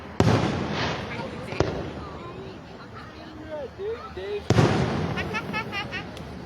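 Fireworks explode over a river during a night river fest in Lockport, Pennsylvania. Several loud bangs come with crackling follow-up pops and whistling trails, while nearby people talk over a murmuring crowd.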